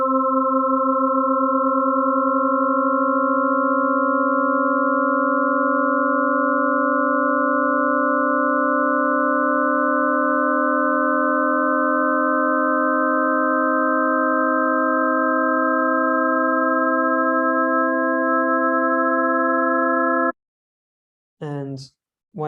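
Synthesized harmonic tones sustain steadily for about twenty seconds as a minor third interval, with several stacked partials held loud and even, then cut off, followed by a brief burst of sound.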